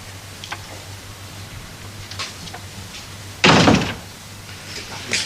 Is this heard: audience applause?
no